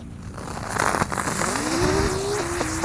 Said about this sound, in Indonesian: Lanjut yang kita nyalakan, di sini ada mercon Teratetor yang warna merah.